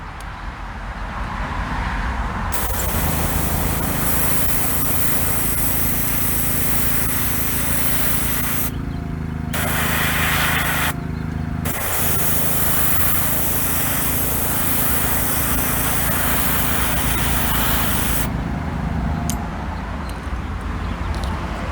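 Airbrush spraying House of Kolors paint, a loud continuous hiss of compressed air with a steady motor drone beneath, broken by a few brief stops in the spray.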